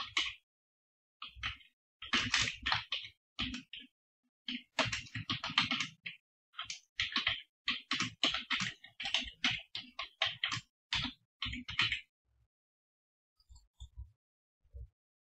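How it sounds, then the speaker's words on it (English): Typing on a computer keyboard in bursts of quick, quiet key clicks with short pauses between them, ending in a near-silent stretch with a few last taps. "Let's type in some text."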